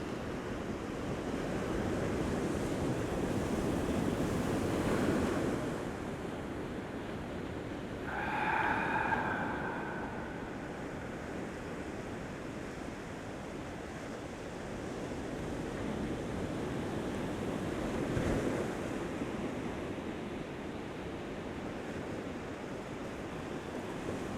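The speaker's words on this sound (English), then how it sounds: "we got the sound of the waves" Steady broadband wash of surf rolling onto a beach shore, swelling and receding in slow, even cycles, with a faint breathy snort partway through.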